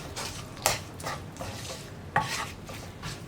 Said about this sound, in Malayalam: ഇതെല്ലാം ചേർത്ത് ഒന്നുകൂടി ഒന്ന് മിക്സ് ചെയ്തെടുക്കുക.